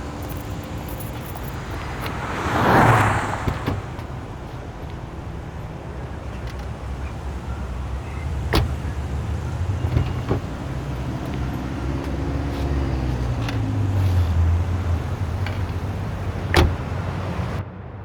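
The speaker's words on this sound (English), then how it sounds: "Come on, let's get in the car." Car driving in the Mafia video game: a steady engine and road rumble continues under the whole stretch, with a door-like burst early and a few sharp clicks and knocks, no talking.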